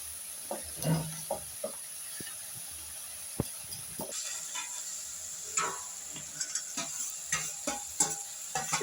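A boal fish head sizzles and crackles in hot frying oil while a spatula stirs and scrapes the pan, giving irregular close clinks and soft hiss with no talking.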